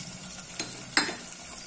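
Finely chopped green chillies, curry leaves and ginger drop into hot oil, setting off a soft sizzle with a couple of brief splashy bursts, close and fairly quiet, without speech.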